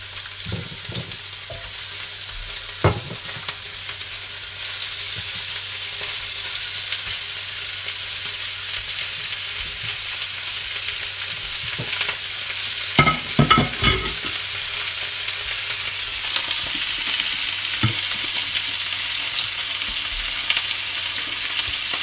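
Pork ribs brown in oil in a pan, a steady bright sizzle running throughout with occasional clatters and scrapes of stirring and turning the meat.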